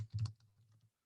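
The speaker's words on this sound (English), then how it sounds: "I'm typing that into the chat right now." Keyboard typing during an online gardening presentation: a short burst of soft keystrokes, a few quick clicks followed by lighter tapping, close and quiet, with no talking.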